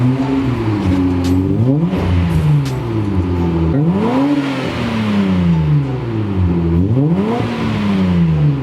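A Mazda MX-3's engine revs up and down through a custom exhaust in repeated swells, a throaty roar rising and falling three times, loud and close.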